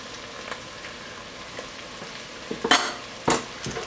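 Ketchup being stirred into pig wing osso bucco in a pan: a soft, faint sizzle carries a few sharper scraping stirs that bunch together near the end, close by, with no voices.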